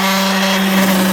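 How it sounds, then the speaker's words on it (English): Loud, steady whirring of a power sander scuff sanding the sides of a wooden furniture piece, with a constant motor hum and gritty rubbing noise. "I just finished scuff sanding all the sides"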